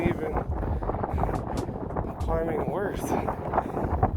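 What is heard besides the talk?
strong wind in a mountain valley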